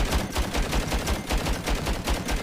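Rapid rhythmic impacts from a weapon striking rocks while mining in the video game Chimeraland, a loud repeated burst of hits with no voices.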